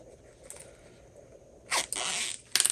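A metal zipper pull on a sewn handbag zipper gives a few quiet clicks, then short bursts of zipping and rattling up close in a quiet room.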